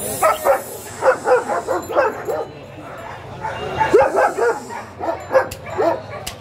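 A fierce seven-month-old guard dog at a Friday market for private security dogs barks in rapid bursts of short yips and barks, close and loud, with a brief pause midway and faint crowd murmur beneath.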